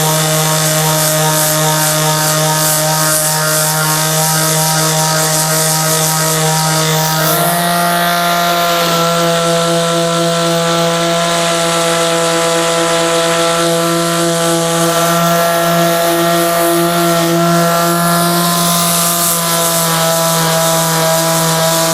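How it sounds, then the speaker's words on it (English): A power sander works over a car dashboard, its loud, steady motor whine running the whole time, dipping slightly in pitch partway through and continuing without a break. "So let's start sanding."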